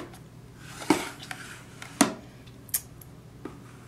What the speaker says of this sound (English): random eyebrow scissors as well.